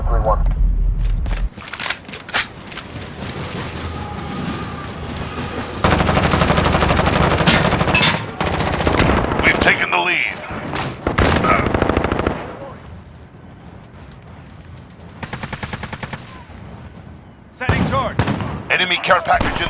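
Automatic gunfire and explosions from a Call of Duty: Modern Warfare team deathmatch on the Hackney Yard map, with loud rapid bursts and dense crackling volleys in waves, mixed with in-game announcer voice callouts.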